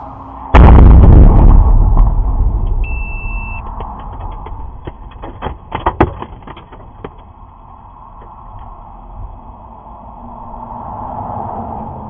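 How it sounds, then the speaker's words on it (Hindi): Ballistic missiles striking Tel Aviv, heard as a heavy, loud blast with a long rumbling roll, then scattered crackling pops and a second burst of impacts. A faint alarm-like tone sounds briefly before a distant low rumble. "ईरान की काफी सारी क्लस्टर बैलिस्टिक मिसाइलें लगातार तेल अवीव और इजराइल के इलाकों में जाकर गिरती हुई नजर आ रही हैं"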